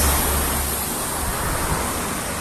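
Water rushes down a waterfall in the mountains near Baguio, a loud, steady broadband roar heard up close with no talk over it.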